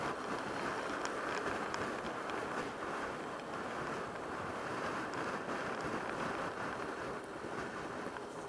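Strong wind gusts buffet the microphone at an exposed spot on a scooter ride, a loud continuous roar of broadband rushing noise with no talk.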